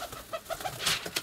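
A stray pigeon cooing close by, a few soft low hoots in a short rhythmic series, with a brief rustle near the end.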